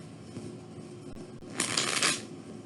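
A deck of tarot cards is shuffled close up in one quick riffling burst that rises and then stops, alone over a faint steady room hiss.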